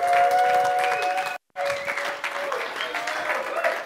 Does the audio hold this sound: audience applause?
yes